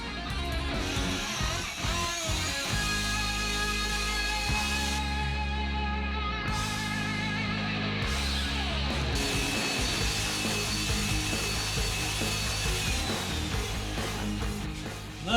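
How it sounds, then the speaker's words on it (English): A ball hone grinds a crosshatch pattern into an engine cylinder bore, a steady loud rasping, scraping drone that runs unbroken throughout with shifting gritty texture and no talk. "The last step we got now is put the ball hone through it. Put our crosshatch pattern in it."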